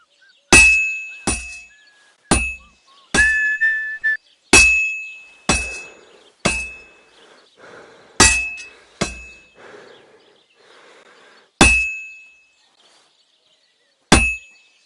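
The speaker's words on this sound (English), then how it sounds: "if it was all about hitting an anvil with a hammer, any dolt could do it" In the medieval video game Kingdom Come Deliverance, a hammer strikes a workpiece on an anvil in a series of sharp ringing metallic clangs, about a dozen hits at an uneven pace with short decaying rings between them.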